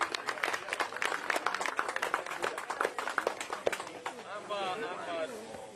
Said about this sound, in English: how about a big round of applause for the 10th annual Republican Trap Shoot